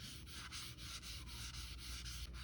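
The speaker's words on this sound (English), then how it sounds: "when you start wet sanding this, is it's gonna be just a little bit gritty" Steady rhythmic wet sanding of a 3D-printed part with sandpaper, light strokes gliding left to right in a continuous back-and-forth rasp, close and alone.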